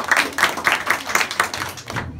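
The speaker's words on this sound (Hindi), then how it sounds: "ताली बजाओ हमारी धरती के लिए।" Students at an intermediate college event in Motipur, Azamgarh clap in a loose rhythmic burst, distinct slaps roughly every quarter second before they stop abruptly.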